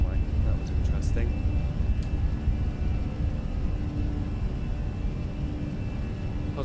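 An EasyJet airliner rolls down the runway and lifts off in Microsoft Flight Simulator 2020, with a steady, loud low engine roar and rumble throughout and a few faint clicks on top.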